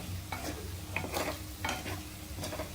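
Garlic and chili masala fry gently in a pan, a continuous low sizzle broken by repeated stirring scrapes and soft spatula knocks at a moderate distance; no voices.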